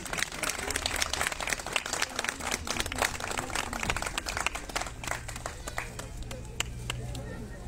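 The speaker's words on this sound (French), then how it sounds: "qu'on peut applaudir très très fort" Audience applause for a local award winner at a town ceremony for Christmas illuminations and nativity scene contest results, brisk close clapping throughout with crowd murmur and a voice over it.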